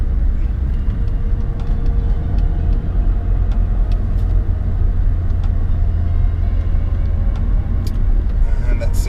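A lowered Honda Accord CL9 on Eibach Pro Kit springs drives along with a steady, loud low rumble of road and engine noise inside the cabin and a few faint clicks and knocks.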